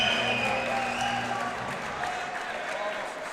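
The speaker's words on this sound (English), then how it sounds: "He gets the applause of York Hall." Boxing crowd at York Hall in London's East End applauding steadily, a dense wash of clapping that holds its level throughout, with voices mixed in.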